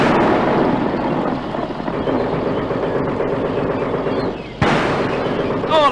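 In a wartime radio drama, a gun fires at tanks: a single heavy blast breaks over a dense, rumbling battle din, with voices talking throughout the scene.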